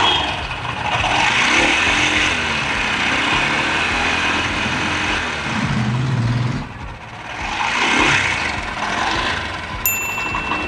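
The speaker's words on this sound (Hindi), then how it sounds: "आपको इसकी नॉइज मैं पास से सुनाना चाहता हूँ।" A Honda SP 125 BS-VI motorcycle engine (2020) idles up close, a steady, even rumble that holds for about ten seconds with a brief dip partway through.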